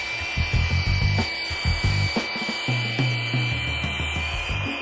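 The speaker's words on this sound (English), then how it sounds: "To get a smaller diameter, I take out the belt sander." A belt sander grinds down a pen made of wine cork, giving a continuous loud motor whine with repeated rough, uneven pulses as the cork is pressed against the belt and pulled away, and no voices.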